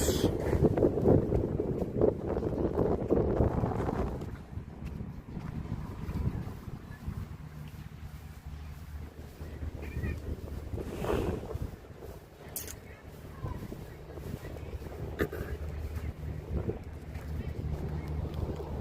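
Heavy wind at the Yanbu seaport in Saudi Arabia rumbles against the microphone, strongest at first, then settles into a steadier gusting roar with a low hum beneath.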